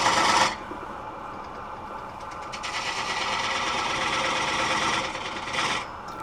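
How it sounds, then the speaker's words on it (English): A spindle gouge cuts a black poplar tenon on a spinning lathe, giving a continuous raspy scraping hiss that swells and eases as the tool works, after a louder opening burst. "I fine-tune the foot, which is also the tenon, with a spindle gouge."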